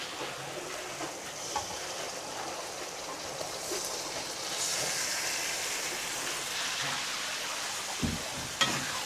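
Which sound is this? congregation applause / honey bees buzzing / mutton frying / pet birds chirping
mutton frying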